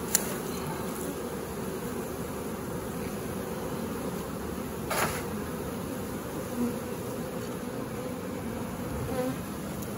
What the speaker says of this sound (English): Here's a little wad of bees here